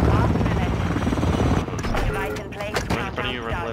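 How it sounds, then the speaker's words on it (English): A support helicopter in a shooter video game, with dense rotor-like drone and bursts of gunfire throughout, loud and close, under energetic talk from players. "my support chopper's trying to get him"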